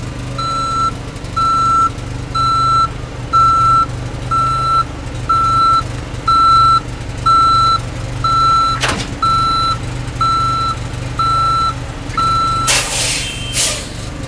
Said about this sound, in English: Driver is backing under the trailer.